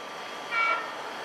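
A three-car LIRR push-pull train, number 8719, nears the Phillips Avenue crossing on a summer night. A brief, faint horn tone sounds from a distance over a low, steady rumble.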